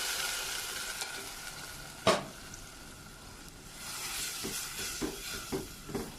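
Chicken masala frying in a pan, a soft steady sizzle with a few sharp scraping stir strokes, one louder clack early on and more stirring toward the end, close and moderately quiet with no talk.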